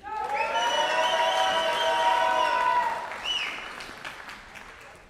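Sustained applause from a crowd at a Tabor College commencement for new graduates, loud and even for about three seconds before thinning into scattered claps and a few cheers.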